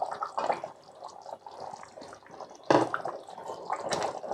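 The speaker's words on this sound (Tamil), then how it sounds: "இப்போ நம்ம அரைச்சி வச்ச இந்த பேஸ்ட்டை வந்து நம்ம இதில் ஆட் பண்ணிடலாம்." Ground masala paste drops into simmering chicken chettinad gravy, giving soft wet plops, splats and a bubbly liquid gurgle nearby, with one louder splash partway through.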